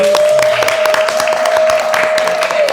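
Studio audience at a dating debate show applauding loudly and steadily, a dense wash of claps held under a sustained tone.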